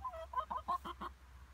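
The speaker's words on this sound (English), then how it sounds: "They clucking." Welsh chickens clucking close by, a quick run of soft, low clucks in an uneven rhythm over a quiet background.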